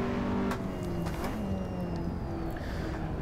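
A KTM X-Bow in Assetto Corsa gives a steady, loud engine drone with shifting revs as it is driven hard, a single close car sound with no voices over it.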